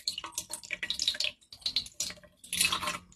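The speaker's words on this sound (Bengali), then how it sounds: "আজ একাদশী, তাই গোপাল স্নান করে নেবে এখন" Water poured over a small Gopal idol during its Ekadashi bath, heard as close, uneven splashing and trickling in several bursts with short pauses between them, and no voices.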